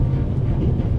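Steady low rumble of a train running in the video game The Raven, a continuous heavy rolling drone with a faint rattle, close and even throughout with no speech.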